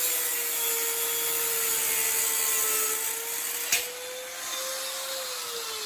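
Steady high-pitched grinding or cutting on a metal frame brace near an original weld during a frame bracing kit install, continuous and close with a brief sharp bump partway through, no talk.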